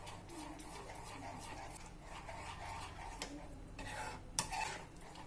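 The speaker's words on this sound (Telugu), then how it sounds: "ఇలా కొంచెం నెయ్యి వేసుకుంటూ కలుపుకుంటూ ఉండాలి." A spoon stirs Bombay Karachi halwa mixture with ghee in a pan, giving soft, steady scraping and swishing close by, with a few sharper clinks near the end.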